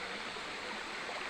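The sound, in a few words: flowing river at a river junction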